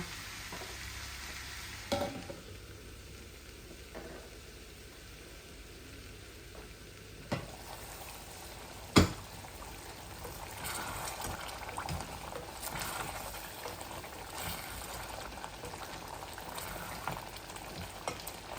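Sweet potato and bottle gourd fry in a pan with a steady sizzle, stirred throughout with scraping strokes and a few sharper clinks of the utensil against the pan, continuous and close with no talking.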